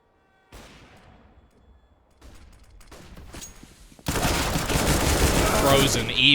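Pistol shots ring out in Counter-Strike on the Train map, scattered sharp cracks building into a loud, dense burst of rapid gunfire near the end.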